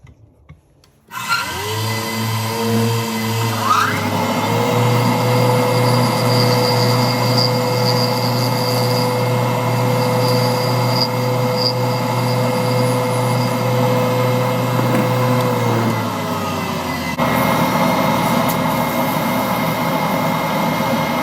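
A spinning machine winds up to a steady loud whine while a guitar-themed fountain pen body is sanded, a continuous hum with hissy sanding texture that dips in pitch near the end.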